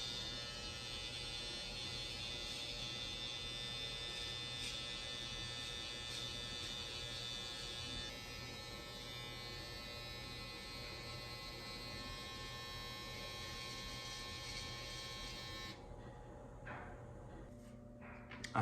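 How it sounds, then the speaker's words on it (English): Electric hair trimmers buzzing steadily close by during a self-cut high taper behind the ear, a continuous faint electric hum that cuts off near the end. "fine with the trimmers behind your ear, taking off as little hair as possible"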